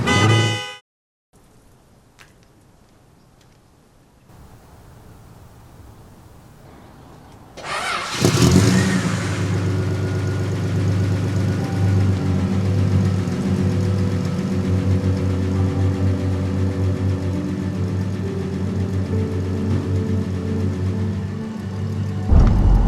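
Car engine starting and then running steadily while cruising on the final day of the Variety Bash 2023 charity rally leaving St Mary's, Sydney, a brief burst at the start, a quiet gap, then a loud continuous engine drone inside the cabin.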